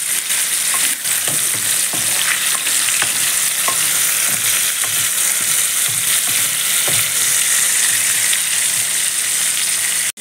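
Raw tamarind sizzles and fries in a pan with green chillies and curry leaves for a bottle gourd chutney, a steady close crackling hiss with light stirring clicks throughout.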